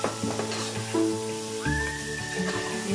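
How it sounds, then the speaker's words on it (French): Bacon lardons frying in a pan for a minced-meat pie, a steady close sizzle with light clattering, and a sustained whistling tone entering midway. "Ensuite, je vais mettre mes lardons."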